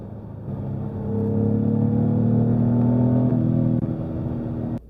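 A turbocharged Jaguar F-Type engine in sport mode holds a loud, steady, droning rev, rising slightly and then cutting off sharply after about five seconds, with no talking.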